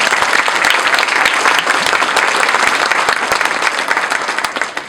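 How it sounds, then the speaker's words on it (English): Parents at a middle school's incoming 7th grade parent night clap steadily for several seconds, a loud, sustained round of applause filling the room. "You can give them a round of applause"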